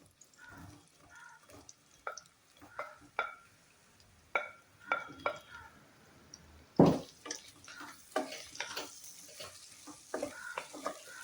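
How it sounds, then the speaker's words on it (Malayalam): Plantain pieces fry in ghee in a pan. A soft sizzle sits under repeated close spatula clicks and scrapes at an uneven rhythm, with one louder stirring burst midway and a busier crackle afterward. "എന്നിട്ട് പഴം ആ നെയ്യിലിട്ട് വഴറ്റി എടുക്കണം"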